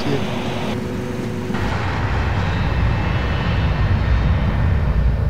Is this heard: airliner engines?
yes